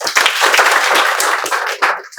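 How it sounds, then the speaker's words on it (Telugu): A classroom audience at a spoken English class breaks into brief, dense clapping, many hands together, loud and close for about two seconds. "క్లాప్స్."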